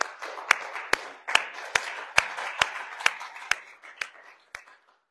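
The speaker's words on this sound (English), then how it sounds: "round of applause" Slow, steady clapping, about a dozen sharp claps echoing in a large room during a church service, gradually thinning out and fading.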